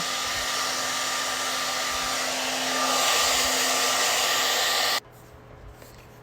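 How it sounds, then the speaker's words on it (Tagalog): A hair dryer roars steadily up close, its pitch shifting slightly partway through, then cuts off abruptly, leaving a quiet hum. "Blower muna natin ang buhok natin habang para matuyo"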